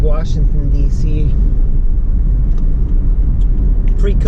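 Toyota Prius driving onto the Capital Beltway around Washington, D.C., a steady loud in-cabin road rumble and tire noise throughout, with someone talking over it.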